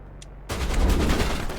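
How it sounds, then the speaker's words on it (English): Burst of sustained gunfire in the sci-fi shooter Mass Effect, erupting suddenly after a short quiet gap and continuing as dense, loud rattling fire. "We're getting shot at."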